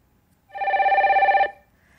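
Telephone ringing for an incoming call on a radio call-in show: a single clear electronic ring burst lasting about a second, loud and close, with no talk over it.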